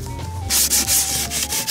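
An old plastic Iris Ohyama rear box from a Super Cub motorcycle, used for over ten years, is sanded by hand in close, rapid, rhythmic scratchy strokes that start after a short pause and continue steadily, with no talking.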